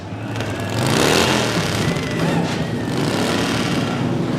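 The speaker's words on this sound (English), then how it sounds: "Gentlemen, start your engines!" Custom chopper motorcycle engines start and rev together at a chopper-building finale, a loud, dense roar that swells in the first second and then holds as a steady rumble.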